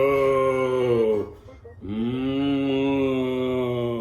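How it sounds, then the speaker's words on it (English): Cattle moo in long, low, droning calls close by, one sustained bellow breaking off briefly before another swells in and holds steady. "The cows mooed for a long time"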